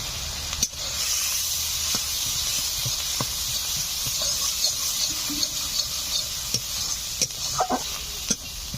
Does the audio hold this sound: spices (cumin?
yes